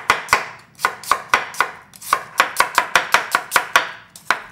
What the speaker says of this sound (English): I'll just cut off around 4 cloves.